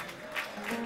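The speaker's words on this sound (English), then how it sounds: "Clap your hands like the devil is between them" Church congregation clapping hands in praise during a conference service, a soft, distant wash of scattered claps under faint room sound.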